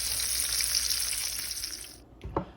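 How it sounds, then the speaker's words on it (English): Salmon and shrimp fry in a pan with garlic butter sauce, giving a loud steady sizzle that cuts off abruptly near the end, followed by a brief clatter. "it's going to go back into the frying pan with the butter sauce"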